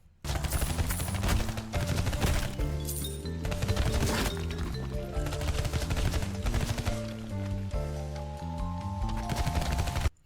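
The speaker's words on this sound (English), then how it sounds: "From the pouring rain, sound of gunfire, and the impact of melee weapons, it just feels great to play." Gameplay of the zombie shooter Zombieville USA 3D mixes rapid bursts of gunfire, rain and melee weapon impacts over a continuous musical soundtrack, loud and busy for the whole stretch with no talk.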